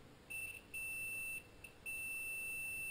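A multimeter beeps during a continuity test across pins of a Land Rover Defender Puma MAP sensor, giving three faint, steady high-pitched tones separated by short gaps.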